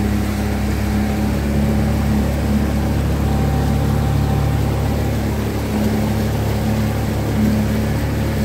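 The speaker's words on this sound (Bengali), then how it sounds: "এখন রয়েছি বিচিত্রপুরে নৌকায়।" A boat on the water at Bichitrapur near Kolkata gives a steady, continuous engine drone with a constant hum and no speech.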